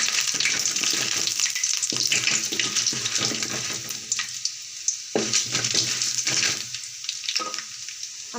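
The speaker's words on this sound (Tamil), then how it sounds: "நல்லா வறுத்து எடுத்துக்கலாம்." Chana dal and urad dal frying in hot oil with mustard seeds, a steady bright sizzle broken by a few sharp stirring knocks, close and continuous with no voice.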